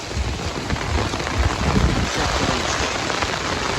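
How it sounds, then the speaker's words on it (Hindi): Heavy storm rain pours steadily over Dadyal town in Azad Kashmir, a dense continuous roar with low rumbling thunder mixed in and gusty wind, loud and close throughout. "ڈڈیال शहर बारिश लगी हुई है,"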